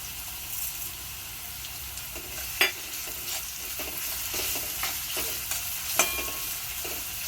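Onion fries in a pan with a soft, continuous sizzle broken by a few sharp clicks and scrapes of a stirring spoon, close by and without talk.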